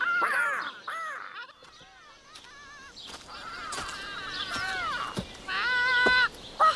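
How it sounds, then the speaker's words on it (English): Parrots in a tree squawk in harsh, nasal bursts, some calls close and loud, others fainter, with brief gaps of quiet between them. "Parrots! Look, they're in the tree!"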